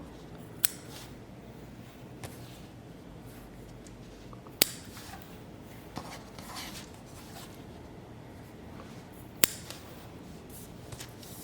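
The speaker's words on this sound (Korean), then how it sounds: "이렇게 매듭 아랫부분으로 줄을 한 줄씩 잘라주시면" Scissors snip through macrame cord strands one at a time beneath a knot, giving a few sharp, close clicks spread over several seconds against a quiet rustling background.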